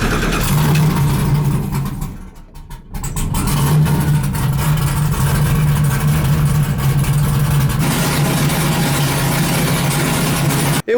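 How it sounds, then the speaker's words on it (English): An LS3-swapped Nissan 240SX idles loudly and steadily with a deep, even V8 rumble, dipping briefly as the throttle shifts before settling back into a constant close drone that cuts off at the end. "It was way too loud to say anything while the car was running"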